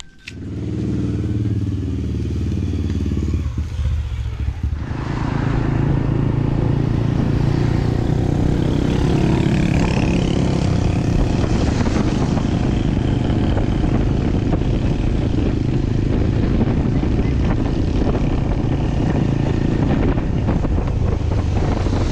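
A motorcycle carries a rice delivery along a road, its engine humming steadily up close, heavily buffeted by wind noise against the microphone, with no one speaking.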